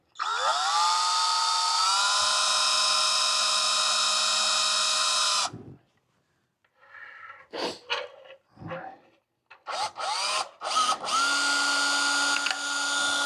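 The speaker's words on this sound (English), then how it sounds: "Okay, so I'm going to drill a hole in this" A power drill whines loudly at a steady pitch for several seconds while drilling a hole in an e-bike part, stops, then buzzes again in short bursts before running steadily once more.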